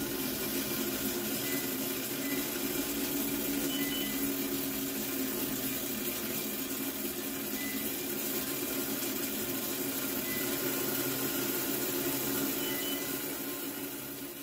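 A Brondell Swash 1000 electric bidet sprays water from its nozzles in a steady, even hiss with a faint pump hum beneath, continuous and close, with no talk.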